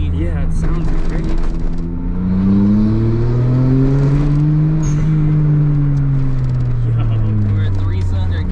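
A 3-cylinder kei car engine revs up and down, its tone rising and falling smoothly as it pulls hard, loud and close inside the cabin, with voices talking over it.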